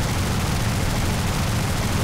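Machine gun fire from a Yak-1 fighter in War Thunder, a dense continuous rattle of rapid shots, loud and close, with no breaks.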